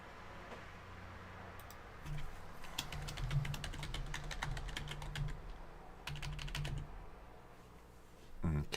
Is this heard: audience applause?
no